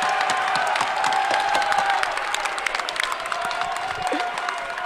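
Crowd at a high school state tournament game, Westfield vs Franklin, second round of the Group 4 North 2 bracket, roaring and cheering continuously and loudly, with shrill whistle-like tones and scattered claps throughout.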